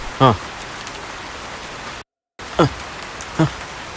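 A constant hiss of rain fills the background while a few short voice bursts break through, with a brief gap of silence midway.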